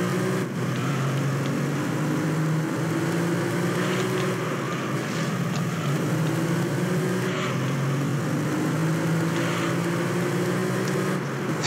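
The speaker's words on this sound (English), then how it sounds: "love the sound of that car's engine" A Tuscan Speed 6 race car's engine in Gran Turismo 3 drones loudly and continuously, its pitch repeatedly climbing and dropping as it revs through gears, with road and wind noise underneath.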